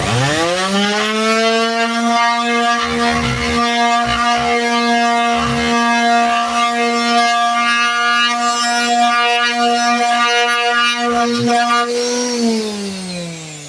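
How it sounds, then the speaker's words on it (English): A palm sander buzzes steadily on a 3D-printed enclosure at a high, constant pitch for several seconds, with faint knocks underneath, then winds down at the end. "that's just a few seconds of palm sanding"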